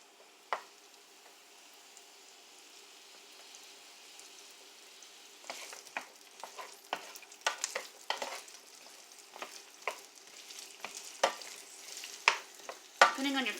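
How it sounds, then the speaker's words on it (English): Onions sizzling and being caramelized in a salted pan, quiet at first, then intermittent spatula scrapes and taps over a soft frying hiss. "I'm going to caramelize the onions"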